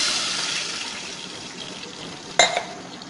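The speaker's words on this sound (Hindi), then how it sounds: "जैसे ये फ्राई हो जाए, इसके अंदर 1 गिलास पानी ऐड कर" A glass of water poured into a pot of cumin rice frying with a small piece of cinnamon, a hissing sizzle that fades gradually, then a sharp brief splash near the end.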